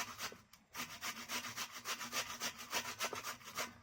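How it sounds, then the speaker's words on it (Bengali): Potato being grated by hand for pakoras in a home kitchen, a close, rapid series of rhythmic rasping strokes, roughly a dozen scrapes in steady succession. "পুরো আলুটাকেই দেবো ঘষে ঘষে"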